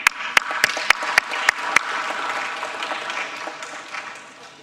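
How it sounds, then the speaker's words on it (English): An audience applauds panel speakers at a food systems conference, with a few loud, sharp individual claps at the start that swell into general applause and then slowly fade. "Please give them an applause."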